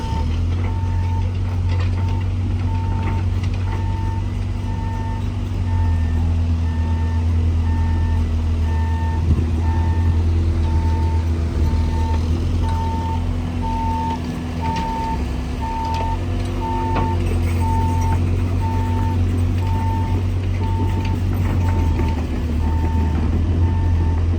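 A truck loaded with steel beams reverses at a construction site, its backup alarm beeping in a steady, even rhythm over a constant low engine rumble, with a brief hiss of air partway through.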